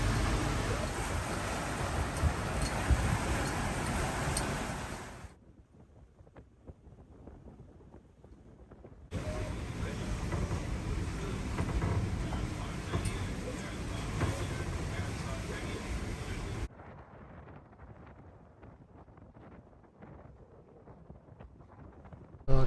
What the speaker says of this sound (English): getting some pretty good gusts coming down off the hills